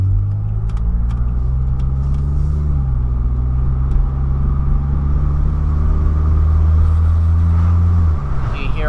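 A Pontiac G6 with a muffler delete and racing-prep weight reduction drones close and loud as it speeds up, its raw exhaust rumble climbing in pitch steadily with a faint rattle underneath.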